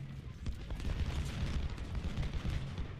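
Artillery fire in the Civil War strategy game Ultimate General: Civil War at Antietam, a dense, continuous rumble of booms and bursts with no break, loud and steady throughout.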